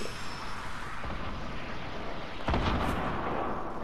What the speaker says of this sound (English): I'm gonna shoot some rockets.